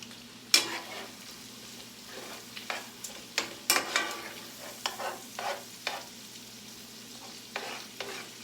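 Leftover chicken and shrimp are stirred into rice in a pan, with a soft sizzle broken by scattered scraping and clinking hits of a utensil against the pan, close and fairly quiet.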